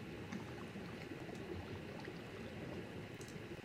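Water is placed in the Minecraft video game, producing a faint, steady fizzing and bubbling flow that runs evenly for a few seconds.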